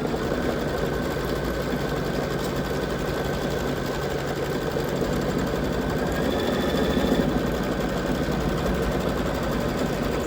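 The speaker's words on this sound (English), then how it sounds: "So we're stitching the tack down." A sewing machine running continuously while stitching a tack-down twice around a centerpiece, a steady close mechanical whir that holds at an even level with no pauses and no voices.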